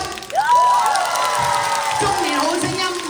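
A crowd at a live singing thank-you show in a Tseung Kwan O mall cheers and whoops loudly, with whistles and scattered clapping, while a voice talks over the noise.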